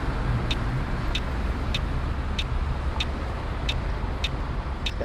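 Coach bus in Fernbus Simulator, a steady, loud engine and road rumble with a regular ticking click repeating about every half second throughout.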